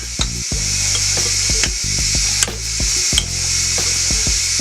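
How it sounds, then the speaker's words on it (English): Avocado being stirred into a pico de gallo mixture for walking tacos: close, repeated wet scrapes and clicks of a utensil over a steady background hum, with no talking. "I'm going to mix this up in here"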